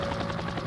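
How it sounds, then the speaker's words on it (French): A helicopter flies overhead with a loud, steady rotor roar and a rhythmic chop, filling the short moment with no other sound. "Steve est transporté à bord d'un hélicoptère jusqu'à l'hôpital le plus proche."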